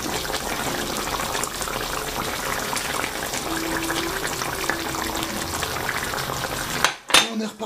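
Chicken tajine with olives simmers steadily in a dense, continuous bubbling wash, with a brief clatter of utensils near the end.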